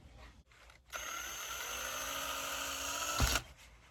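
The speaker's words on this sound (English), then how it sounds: "you're gonna take your drill bit here and drill a hole" A power drill whirs steadily for about two and a half seconds, drilling a hole in a fishing bobber, close and fairly quiet, then stops with a brief clunk.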